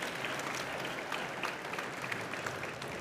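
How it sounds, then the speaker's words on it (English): A room of audience members applauds at a marketing talk, steady dense clapping throughout at moderate level with no speech. "So I might just ask everyone to give a round of applause to Clint for coming and sharing his story today."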